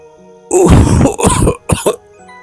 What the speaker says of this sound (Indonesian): tiba-tiba terdengar suara batuk ringan dari kursi belakang